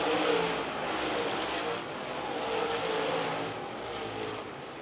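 Super late model race cars roaring around Lancaster Motor Speedway, a continuous distant engine drone that rises and falls as the pack passes, with no voices.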